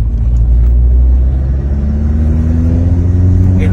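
A car engine hums steadily and loudly from inside the cabin while driving, rising slightly in pitch as it revs, with no voices.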